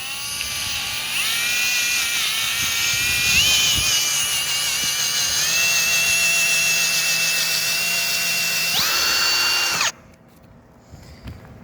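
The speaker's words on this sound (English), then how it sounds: "I take the drill" A power drill boring a pilot hole through IronRidge FlashVue roof flashing while a solar racking rail mount is being installed; a steady, loud whine runs for about nine seconds, shifting pitch as the load changes, then cuts off abruptly.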